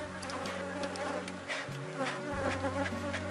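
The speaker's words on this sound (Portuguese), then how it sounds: "vai uma abelha aí na câmera" Honey bees buzz close to the camera at a swarm, a steady droning hum that swells and dips slightly as they pass near, continuous throughout with no talking.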